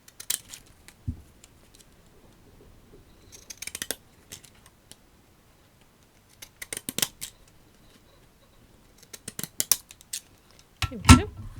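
Scissors cutting paper freehand along an edge, several bursts of crisp snipping and sliding blades separated by pauses, close up, with occasional light handling clatter and a final sharp snip.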